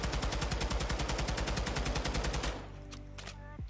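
Rapid automatic fire from a TAC 56 rifle in a video game, a fast, steady stream of loud shots for about two and a half seconds that stops abruptly, leaving a low ringing tail.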